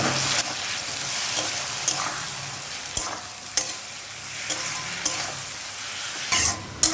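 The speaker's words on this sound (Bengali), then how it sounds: "আর দিয়ে দিচ্ছি ভেজে রাখা চিংড়ি মাছ পোস্ত লঙ্কা লবণ হলুদ দিয়ে বেটে নিয়েছি সেটা দিয়ে দিলাম গ্যাসটাকে লো ফ্লেমে রেখে 30 থেকে চল্লিশ সেকেন্ড কষিয়ে নেব" Fried shrimp with ground poppy-seed, chili, salt and turmeric paste frying on a low gas flame, a steady close sizzle broken by repeated spatula scrapes and knocks against the pan.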